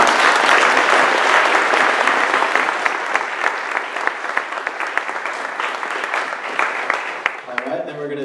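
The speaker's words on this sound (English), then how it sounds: "Maybe we could get a round of applause for our panel." An audience applauds a legal panel at the close of a Bitcoin event, a dense, steady round of clapping filling the room for about eight seconds and tapering slightly, with a voice starting to speak at the very end.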